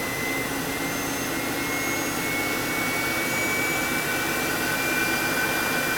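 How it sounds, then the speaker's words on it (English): An electric fan pushing air through a simple venturi tube gives a steady, loud, close rushing roar with faint whining tones that creep slowly upward as it speeds up. "You can hear the pitch of the fan increase."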